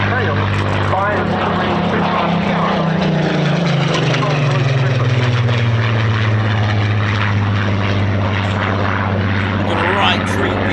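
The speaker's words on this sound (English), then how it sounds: "Right treat being now the B-51 Mustang and the Spitfire Mark 19" Loud, steady drone of a P-51 Mustang and a Spitfire Mark 19 piston engines at an air show, a deep throbbing roar with a pitch that slides slightly as the planes pass, continuous throughout.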